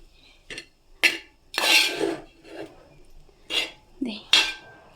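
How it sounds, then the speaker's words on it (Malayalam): A spoon stirs cooked rice in a pot, giving several separate bursts of scraping and metal clinking against the pot with short pauses between them, close and moderately loud. "നന്നായിട്ട് അങ്ങനെ ഇളക്കി കൊടുക്കുക"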